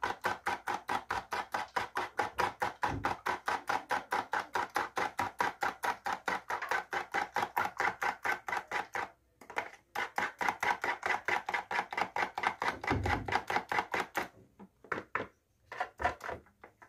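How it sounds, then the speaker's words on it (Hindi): Eggs are whisked briskly until frothy in a bowl for a spicy chicken fry batter: quick, steady strokes about four per second, with short pauses near the middle and end. "अंडों को इतना फेंटना है कि इसकी झाग बन जाए।"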